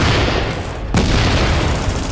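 Enemy turret firing in Mirror's Edge Catalyst: a loud, dense wall of sustained gunfire filling the whole moment, with a sharp burst standing out near the middle and no speech.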